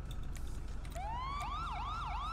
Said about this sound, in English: You see my sirens?